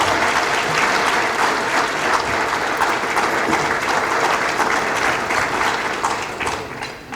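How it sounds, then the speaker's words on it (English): A crowd applauds steadily and loudly throughout, the dense clapping tapering off slightly near the end. "Let's give Imam Deen Mohammed II, President of Mosque, a round of applause."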